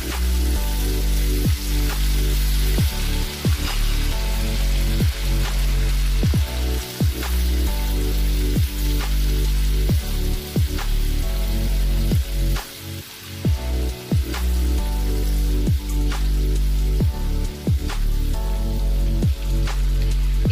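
Ginger and spices sizzle in melted butter over a low flame for Punjabi sarson ka saag, a steady close crackle with frequent sharp pops throughout and no talking.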